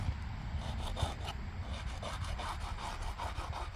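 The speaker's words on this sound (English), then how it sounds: "As you notice, I'm using a plastic scraper." A plastic scraper rubs across an old gravestone in quick, repeated scraping strokes, close and moderately loud, with no voices.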